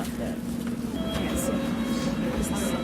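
A London Underground Metropolitan line train rumbles loudly and steadily at Finchley Road, with a high whine and brief squeals, while a recorded platform announcement and people's voices can be heard over it.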